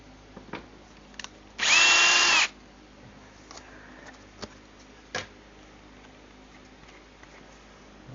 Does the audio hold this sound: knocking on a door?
no